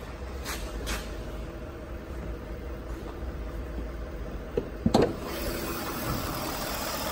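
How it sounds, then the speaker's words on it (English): A 2016 Ford F-150 Lariat pickup truck engine idles with a steady, low, even rumble throughout, with a brief clunk partway through; no talking. "Engine's running nice and smooth."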